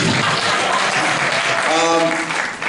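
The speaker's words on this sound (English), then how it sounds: "sure you can applaud if you want" An audience at a high school reunion breaks into applause, a full, sustained wash of clapping with voices and cheering woven through it, fading slightly at the end.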